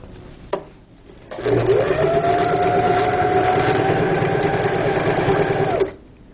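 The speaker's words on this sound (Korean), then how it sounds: "박음질을 하겠습니다" A home sewing machine whirs steadily for several seconds, stitching through thick folded fabric for a low table cover, preceded by a sharp click and ending abruptly.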